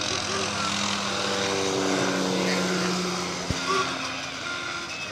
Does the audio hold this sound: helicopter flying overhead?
yes